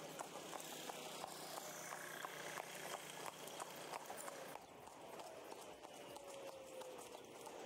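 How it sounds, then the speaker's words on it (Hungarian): Horse hooves clip-clop in a quick, regular rhythm, close by, as a horse-drawn carriage moves through traffic in Egypt. Faint engine noise sits underneath and no one speaks. "estéjén elmehettünk lovaskocsikázni"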